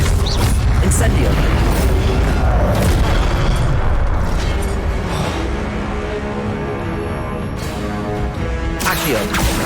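Incendio fire spell bursts in Hogwarts Legacy on PS5, a loud, dense roar of booming, crackling blasts that fills the whole stretch, dips slightly midway, then flares again near the end.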